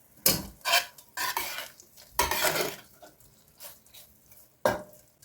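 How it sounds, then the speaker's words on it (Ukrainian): A utensil scrapes and clinks against a pan in irregular strokes while onions and paprika are stirred and fried over medium heat, close up and moderately loud. "Перемішую, смажу приблизно одну хвилинку на середньому вогні"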